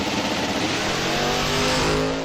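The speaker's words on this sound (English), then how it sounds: "Turk's car spun the tire a little bit, but he was able to get through it and get away with it." A Factory Stock drag race car at the NHRA U.S. Nationals launching off the line, its engine revving hard with rising tone as the tire spins briefly, loud and sustained with no voices.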